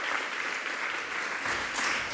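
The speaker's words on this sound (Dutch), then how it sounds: "Of applaus voor Joost de Vries." A room full of people applauds steadily, a dense wash of clapping that holds at an even level throughout.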